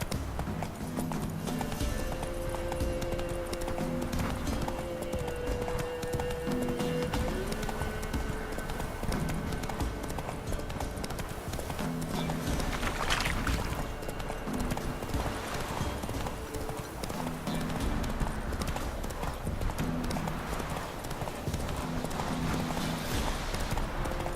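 The horse Roach gallops in the video game The Witcher 3. Steady rhythmic hoofbeats clip-clop for the whole stretch under game music and ambience, with a brief whinny partway through.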